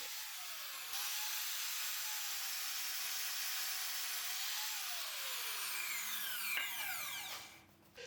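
A miter saw cutting 2x4 corner pieces to length for a workbench, with a sustained high whine that winds down and trails off near the end.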